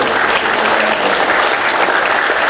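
Dense, steady applause from an audience at a lecture event for a presidential hopeful, sustained and fairly loud throughout with no pauses.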